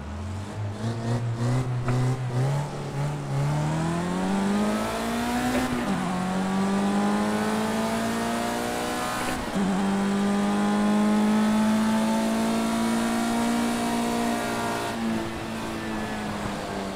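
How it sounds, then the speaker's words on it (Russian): Race car in the Project Cars 2 video game on cold tires, engine rising and falling through gear changes with tire squeal and road noise over about seventeen seconds, loud and steady, no voices. "Ух, и звук на шинах совершенно другой стал."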